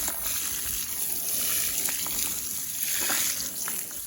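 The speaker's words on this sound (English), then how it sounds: "I will now water it in again." Water sprays and gushes steadily onto compost spread over a garden bed, a continuous hissing splash close by, with no talking.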